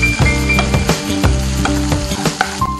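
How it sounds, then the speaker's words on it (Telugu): Chopped tomatoes fry in a pan with other ingredients, giving a steady close sizzle with bubbling crackle and occasional soft stirring knocks throughout. "సో వీటన్నిటిని కూడా మళ్ళీ ఒక్కసారి ఫ్రై చేసుకుందాం."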